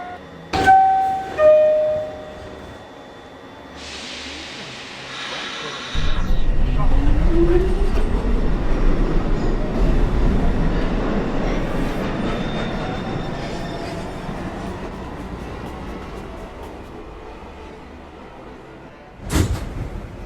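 A Manhattan-bound New York subway 1 local train of R62 cars pulls away and rides, a loud rumbling roar that builds after door chimes and slowly fades, with a brief announcement chime at the start and a sharp click near the end.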